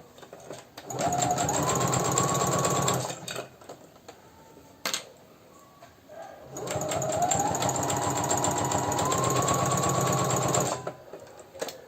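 A sewing machine runs a straight seam around the pattern for a baby's Japanese-style slipper, whirring steadily in two long bursts of about three and five seconds with a short quiet pause between them.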